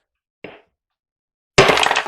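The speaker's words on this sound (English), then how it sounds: "What I would like to do now is to hit it with a hammer." A faint tap is followed by a loud, sharp crack as a hammer strikes solid gallium and it shatters, the debris rattling briefly afterward.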